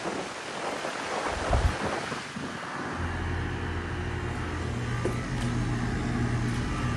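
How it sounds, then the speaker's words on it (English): A 2-ton Goodman GSZ14 heat pump from 2018 runs its outdoor fan motor, a steady close whooshing hum with a low drone that settles in after a few seconds of gusty rumble. "There's the fan motor."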